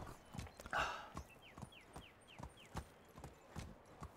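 Horse hooves clip-clop at a steady walking pace in the medieval video game Medieval Dynasty, crisp evenly spaced hoofbeats up close over a quiet ambient background with faint bird chirps.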